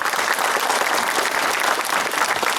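A crowd at a summer commemorative gathering in the village of Rusinovo claps in sustained, dense applause that stays loud and even throughout, with no one speaking over it.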